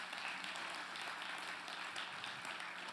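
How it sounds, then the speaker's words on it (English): A dense wash of many hands clapping together, a church congregation applauding steadily and fairly loudly with no pause for the whole stretch. "Can we give the Lord a praise clap?"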